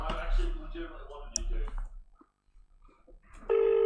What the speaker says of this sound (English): I'm dialing numbers. We're going to ring the number that's on the back of this tape.